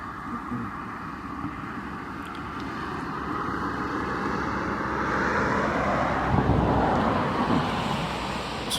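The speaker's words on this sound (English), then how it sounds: "Some traffic going by. We'll just wait for the cars to go past." Cars passing along a road near open fields, a broad steady rumble that swells toward the end as vehicles go by, with no talking.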